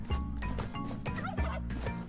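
Clucking turkey calls from an enemy in the cave-exploring platform game Spelunky, repeated bursts over a steady game soundtrack, fairly loud and close, with no talking.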